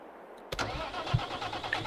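A tractor engine in Farming Simulator 22 cranks and catches with a sudden loud start, then settles into a steady mid-pitched idle.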